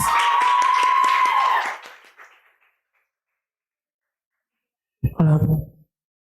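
Audience applause at a talk event, a loud burst of clapping with a sustained tone beneath it that fades out after about two seconds, followed by silence and then a brief voice.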